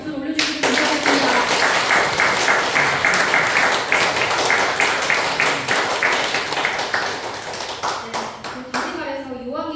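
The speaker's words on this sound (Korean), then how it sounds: "아주 참 어머니께 감사의 박수를 올려주시기 감사합니다." A congregation gives a round of thankful applause, with lively clapping from many hands that swells quickly and holds for several seconds, a speaker's voice heard just before it starts and again as it fades.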